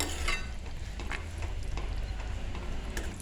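Kerala-style fish curry, a fish perattu, bubbles and sizzles in a pan as it thickens, with a close, steady crackle and light stirring scrapes.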